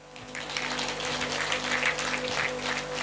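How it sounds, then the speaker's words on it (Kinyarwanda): Wedding guests at a traditional Rwandan wedding clapping together, a steady mid-level patter of many hands continuing throughout, heard from a little distance with no speech over it. "Aya mashyi turayakwiriye."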